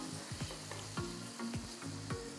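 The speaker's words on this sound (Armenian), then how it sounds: "Սունկը գրեթե տապակվեց" Mushrooms fry in a pan, a steady sizzle broken by repeated scraping strokes of a utensil stirring them, close and clear with no talking.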